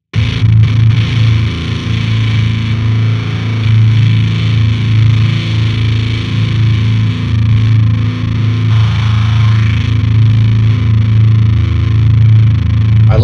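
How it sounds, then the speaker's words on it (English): Thick, heavily fuzzed distorted guitar drones continuously and loudly, a saturated buzzing tone sustained without pause. "We can go more into the fuzz and just disgusting, you know, a billion dBs plus of gain of distortion sounds"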